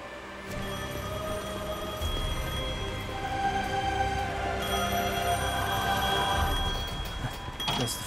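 Telephone in a phone booth in Devil May Cry V rings with a steady repeating electronic bell over a dense game soundscape of rain-like hiss and low rumble, fairly loud throughout with no talking.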